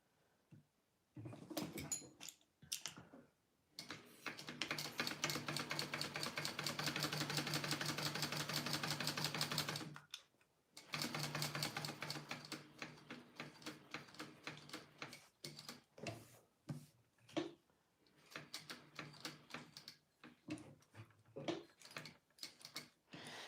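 Domestic sewing machine stitching around a zipper pocket on a wallet, quiet bursts of rapid mechanical clatter, one long steady run in the middle, then short stop-start spurts.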